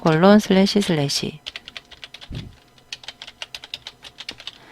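Typing on a computer keyboard while entering a web address for a Photoshop exam exercise: a voice speaks first, then a low thump, then a quick run of close, crisp key clicks in an uneven rhythm.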